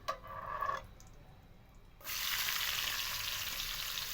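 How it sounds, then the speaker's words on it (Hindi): Onions fry in a pan for a mixed aloo, matar and gajar sabji, with a steady close sizzle rising sharply partway through after a quieter start. "1-2 मिनट के लिए बस इसको हल्का सा फ्राई करेंगे।"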